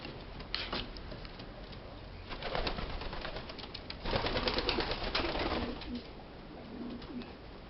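Standard racing homer (voiajor) pigeons cooing in a loft in Medgidia: soft, low, repeated coos rise and fall over a quiet, hissy background, with no talking.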